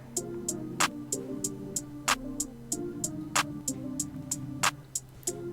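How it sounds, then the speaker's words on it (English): Crisp hi-hat ticks in a simple steady pattern, with regular accented hits, riding over a soft low backing hum. "Then on top of that, I got some hi-hats, just simple hi-hats."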